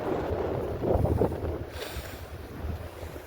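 A cool wind blows hard on Sarkeshvar beach, buffeting the microphone in a steady roar, with surf washing in the background.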